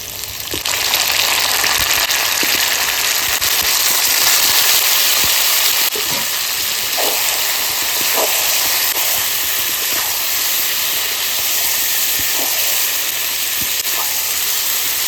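Marinated mutton frying in a hot pan after onions have browned, giving a loud, steady hiss of oil and steam with occasional sharper pops and crackles, no voices.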